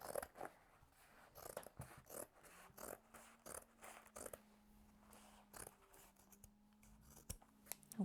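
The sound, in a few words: scissors cutting denim jeans along the crease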